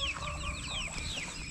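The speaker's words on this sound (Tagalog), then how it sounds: "meron pang mga manok doon" Chickens on a small farm clucking and chirping softly, a steady cluster of short calls heard faintly with no talk.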